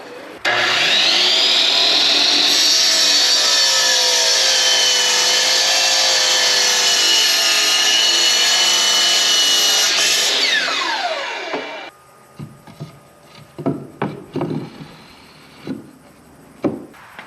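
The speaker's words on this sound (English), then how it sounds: "Some people call this a sliding miter saw, some people call it a chop saw" A sliding miter saw cutting hardwood boards gives a loud, steady high whine for about eleven seconds, then its pitch slides down as the blade spins down, followed by a few scattered knocks and thumps.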